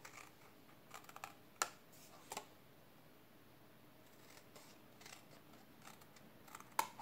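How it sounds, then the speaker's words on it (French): Scissors snip through a paper card along drawn lines, a handful of quiet, sharp cutting clicks spaced irregularly against a hushed room, with no voices. "Ensuite, je vais couper le long de mes traits."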